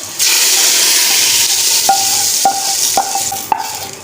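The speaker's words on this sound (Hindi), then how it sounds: "अब हम तड़का जो है हांडिया में डालेंगे।" Hot tadka is poured into a pot of masoor and moong dal, setting off a loud, steady sizzle close up, with a few sharp metallic clinks of a spoon against the pot near the end.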